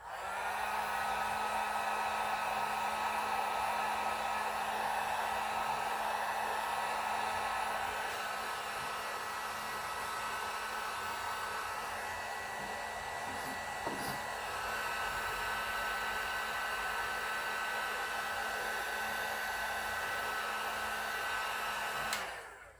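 A heat gun warms epoxy during the stock repair of a Brown Bess musket. It gives off a steady, close blowing roar with a whine that runs without a break, then cuts off at the end.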